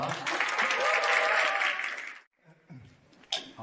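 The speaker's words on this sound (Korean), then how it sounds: "박수를 그렇게 쏠리니까 너무 좋습니다." Audience at a winter praise revival seminar for choir conductors bursts into lively applause for about two seconds, then it stops and a voice speaks briefly.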